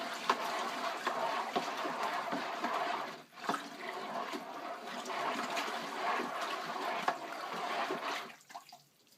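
Pin cherry wine must being stirred after Campden tablets are added, a steady wet swishing and sloshing of liquid in a container that continues evenly before fading near the end.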